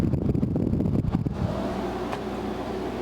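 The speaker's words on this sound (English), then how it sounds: "there's the air compressor go" An air conditioner's compressor powered by a Marxon G1500 power station, a low steady hum with fan-like whoosh after a louder rushing start, close and continuous.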